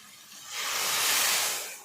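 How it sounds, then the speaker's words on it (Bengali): Water splashes into a pan of sizzling mixed vegetables with soybean chunks, and a steady broadband hiss swells loudly for about a second before easing off slightly, with no voices. "এবারে আমি ওর মধ্যে জল দিয়ে দেবো।"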